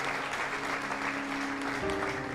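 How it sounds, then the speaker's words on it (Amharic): A church congregation applauds newcomers who have stood up, a steady, moderately distant wash of many hands clapping over a faint hum. "Clap for them."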